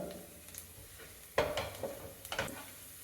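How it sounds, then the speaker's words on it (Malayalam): Chopped garlic fries in a pan over a medium flame, a quiet sizzle punctuated by sharp spoon-against-pan stirring clinks, the loudest near the middle and end. "വെളുത്തുള്ളി ഒന്ന് വെന്ത് വരുന്നത് വരെ 30 സെക്കൻഡോളം മീഡിയം ഫ്ലെയിമിൽ വെച്ച് ഇതൊന്ന് കുക്ക് ചെയ്തെടുക്കുക"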